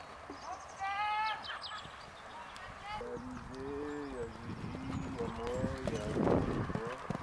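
A horse trotting during a jumping lesson at an equestrian riding school, hooves clip-clopping steadily under loud talk and instructions, with a whinny-like call early on.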